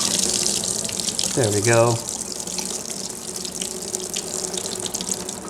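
Water gushing and gurgling out of a spinning plastic water bottle during a science experiment, a close splashing pour with a rising glugging tone, then a trickle under a brief spoken remark.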